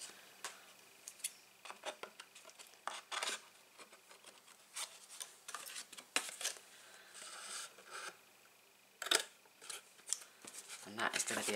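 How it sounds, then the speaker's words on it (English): Cardboard from one side of a reinforced box is cut with scissors, producing faint, close snips and rubbing scrapes in an irregular rhythm, with occasional louder rustles of the card being handled. "We are now going to cut up this side."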